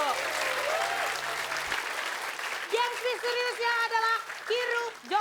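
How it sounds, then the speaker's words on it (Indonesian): A studio audience at an Indonesian comedy show applauds loudly in a sustained burst, and voices speaking and exclaiming come through over the clapping. "Tepuk tangan dulu."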